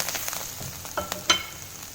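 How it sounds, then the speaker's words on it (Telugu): Spring onions frying in a pan with turmeric and salt, a steady close sizzle with a few brief scraping stirs and clinks over about two seconds, no voices. "ఇప్పుడు వీటిని కొద్దిగా ఫ్రై చేస్తున్నాం"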